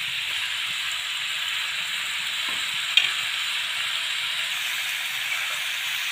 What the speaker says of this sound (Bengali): মাজে মাজে অলপ এনেদৰে লৰাই লৰাই ভাজি থাকিব লাগিব